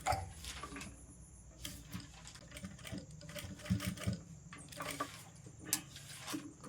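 A domestic sewing machine stitches a double-folded placket on a girl's palazzo top, running in uneven bursts of rapid mechanical whirring with short pauses, close and alone with no talk.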